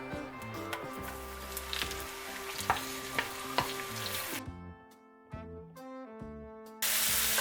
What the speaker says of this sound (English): we're just going to saute these on a medium heat for about 3 minutes